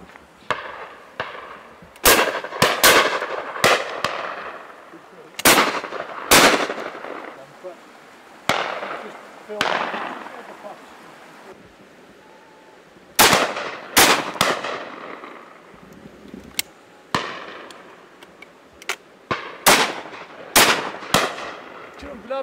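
Shotguns fire at driven partridge on a game shoot at Chargot Estate, with loud, sharp outdoor reports, some singly and some in quick pairs, spread across the whole stretch and echoing briefly, with occasional voices between them.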